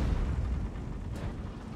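Tank cannon fire in a tank video game comes as a single heavy, booming blast with a rumbling low-end tail that fades over under two seconds.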